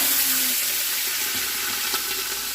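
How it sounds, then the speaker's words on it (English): Smoked meat searing in hot olive oil, a close, loud, steady hiss and sizzle with scattered pops. "I think I'm going to sear them a portion at a time so they can all get covered and seared well."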